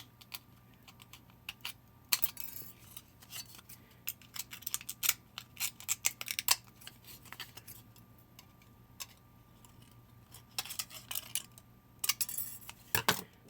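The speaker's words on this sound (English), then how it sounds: "And you just cut it and trim it." Scissors snip and trim a piece of material, crisp close clicks and cuts coming in irregular bursts over a quiet background with a faint steady hum.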